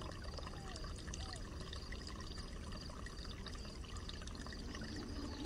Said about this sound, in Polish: Nalewam wodę.